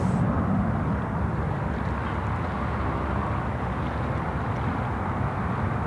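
An airliner rolls down the runway on takeoff at Sydney Airport, a broad steady roar of jet engines heard at a distance, constant throughout with faint wind noise.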